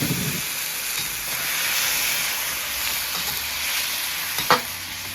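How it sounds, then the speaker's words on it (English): Ginger stir-fried in hot oil in a wok for Cantonese tomato and egg, a loud, steady hissing sizzle close by, with a brief clank of a spatula near the end. "Stir fry a little bit, and then the tomatoes."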